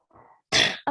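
A woman gives a soft throat-clearing hum followed by one sharp, close cough and the start of a second, loud and alone.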